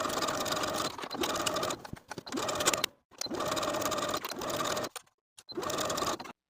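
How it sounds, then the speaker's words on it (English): A domestic sewing machine stitching the back rise seam of elastic-waist shorts at a 3/8 inch allowance, rapid rhythmic needle clatter in four close bursts separated by brief pauses. "Sew your back rise with a 3/8 inch seam allowance."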